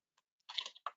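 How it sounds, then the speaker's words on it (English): A few quiet keystrokes on a computer keyboard, a brief cluster of soft clicks close by in near silence, with no talking. "You type something"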